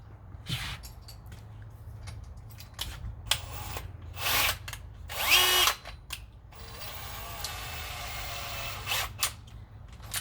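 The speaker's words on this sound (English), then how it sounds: "So I am going to pretend to drill another hole even though it's already there." A power drill fitted with a 1.25-inch hole saw working at a plastic barrel for a bulkhead fitting, giving loud broadband bursts that rise and stop several times, with a long steadier whirring stretch near the end.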